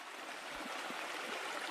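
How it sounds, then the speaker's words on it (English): A steady, close wash of stream water flows beside a hiking trail on the Benton MacKaye Trail. It is an even broadband rush with no voices. "I knew I had been hearing water for a while"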